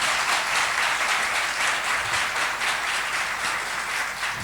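A live audience applauds loudly for a guest speaker at a Marathi literary discussion, the clapping dense and sustained throughout with no pauses.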